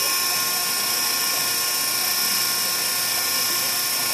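A two-stage filter cart pump filters contaminated diesel, a loud constant high mechanical whine with a steady hum that stays unchanged throughout.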